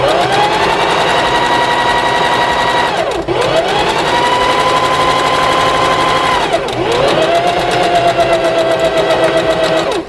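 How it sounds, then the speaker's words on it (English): A sewing machine stitches a garment seam at 5/8 inch allowance for McCall's 8069 pattern, its steady motor whir running in three long bursts, each slowing and dipping briefly before picking up again. "go to the sewing machine and stitch this up with the 5/8 of an inch seam allowance"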